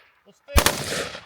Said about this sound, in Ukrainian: Автоматичний і весь магазин до... вогонь.